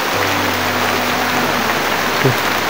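Steady rain pours down in a dense, even hiss, with a low hum running underneath and a brief knock near the end.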